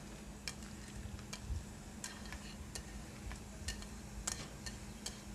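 Mushrooms sizzle quietly in a pan. A spoon clicks and scrapes in sharp, irregular strokes as they are stirred, and a low, steady hum runs underneath.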